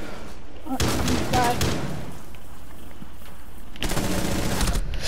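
Bursts of automatic gunfire in Rainbow Six Siege, with one heavy volley at the start and another near the end, loud and close, separated by a quieter stretch with low background noise.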